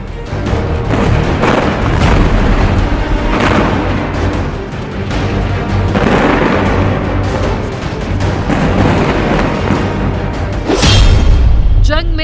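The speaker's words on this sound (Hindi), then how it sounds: "गाजा पर इजरायल के हवाई हमले।" Israeli airstrikes on Gaza send heavy, continuous rumbling blasts and deep booms that roll together without pause, loud and dense, with a sharper burst near the end.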